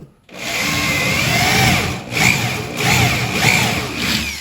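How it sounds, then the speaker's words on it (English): A power drill bores a new hole in a mid-century modern dresser, a close, loud whining spin that starts abruptly, holds, then pulses in several short bursts. "I'll just drill a new hole."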